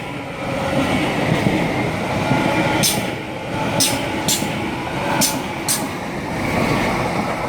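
A Class 800 electric passenger train passes close by at Reading West in a continuous roar, with several sharp clicks of wheels over rail joints partway through.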